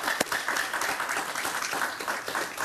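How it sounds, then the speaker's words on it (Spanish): A studio audience on a Spanish-language talk show applauds a visiting Cuban writer and dissident, with steady dense clapping from the crowd throughout and no voices over it. "un aplauso para él, por favor"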